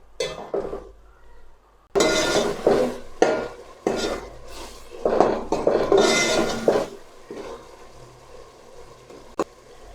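Chopped tomatoes and green masala being fried and stirred in a pan for aloo matar, with repeated close scraping and clinking bursts of a spoon against the pan over a low sizzle, and no talking.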